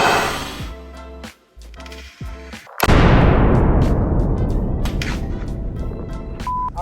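A .45-70 rifle fires a single loud, sharp outdoor shot partway through, and its booming echo decays slowly over several seconds, after a stretch of quieter mechanical clicks and handling sounds.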